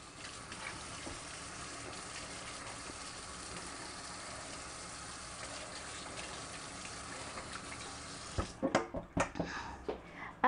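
Tap water runs in a steady gush while hands are washed in a home kitchen during dough making, a constant rushing flow that ends in a few splashy, uneven bursts as the tap is shut off.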